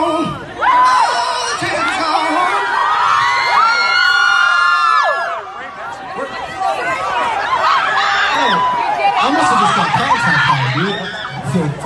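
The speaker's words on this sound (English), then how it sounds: "It's probably just you guys screaming my name at me." A comedy show audience screams, whoops and cheers loudly in a sustained roar, with shrill individual yells and laughter rising and falling across the crowd, close and dense throughout.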